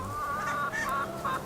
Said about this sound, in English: That is the cross that we're talking about that ends up giving you a really nice dual-purpose chicken.